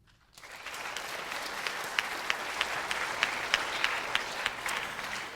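Applause swells quickly at an international awards show, with many hands clapping steadily in a large room and a few sharp, close claps standing out above the crowd.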